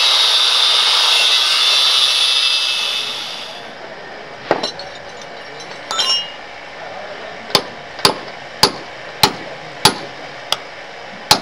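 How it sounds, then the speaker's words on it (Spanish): Hammering chips holes for steel pins in concrete at a construction site. A steady hiss fades out first, then comes a scrape, and then a run of sharp, evenly spaced metallic strikes rings out close by. "estamos picando los pinis que vamos a poner en estos huequitos."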